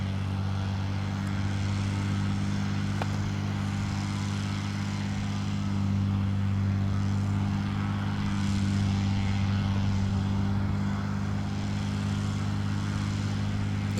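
Small propeller aircraft engines at Albi airport drone steadily and loudly throughout, a deep continuous hum with little variation and no voices.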